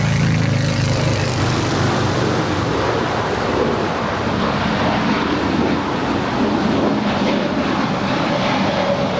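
A Viva Aerobus Airbus A320 airliner, three years old, taking off at LAX, a loud steady broadband jet roar holding constant throughout with no voices.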